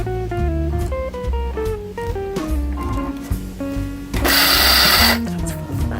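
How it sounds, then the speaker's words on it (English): A Cuisinart coffee grinder grinding almonds lets out one loud, harsh whirring burst of about a second, rising over steady background music. "In your little Cuisinart coffee grinder, which is now my everything else grinder but coffee"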